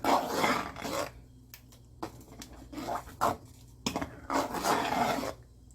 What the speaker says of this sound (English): I'm gonna add the nutmeg in there and I'm gonna stir.